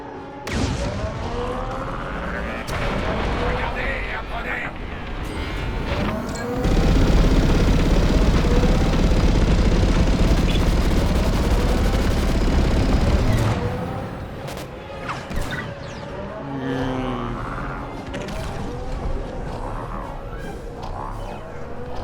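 Star Wars Squadrons space combat brings a dense roar of explosions and blaster fire, building to a sustained loud blast in the middle before easing into scattered bursts and engine rumble.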